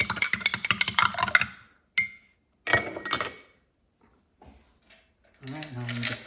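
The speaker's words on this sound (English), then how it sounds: "A little stir." A spoon stirs an espresso drink in a glass, giving a quick run of bright rhythmic clinks up close, then a few isolated taps and clinks separated by silence.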